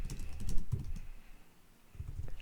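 Quiet, close typing on a computer keyboard: bursts of soft key clicks with a brief pause in the middle.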